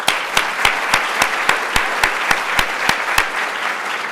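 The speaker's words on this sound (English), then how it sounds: "So can we get a round of applause for them?" An audience at a library technology conference claps for scholarship winners, a steady wash of hand claps with sharp regular accents throughout, moderately loud and with no talking.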